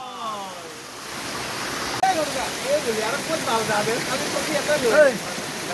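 A waterfall gives off a steady, broad rushing roar throughout. Excited voices rise over the water noise in the second half.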